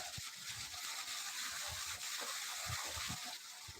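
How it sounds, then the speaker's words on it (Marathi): Water from a borewell pours into a well during a drought, a steady faint gushing hiss that runs without a break and carries no voices. "आपल्या विहिरीला थोडंसं पाणी या बोरच्या सहाय्याने येत आहे"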